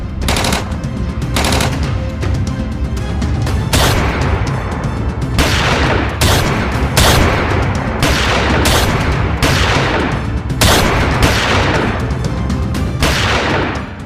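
Gunfire in a Sindhi drama scene, with loud, dense bursts of automatic weapon fire and heavy shots that repeat in rapid volleys for the whole stretch, with no pause.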